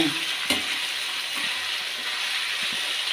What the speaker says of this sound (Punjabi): ਆਲੂ ਇਹ ਥੋੜੇ ਜਿਹਾ ਫਰਾਈ ਹੋ ਕੇ ਫਿਰ ਪਾਵਾਂਗੇ ਗੋਭੀ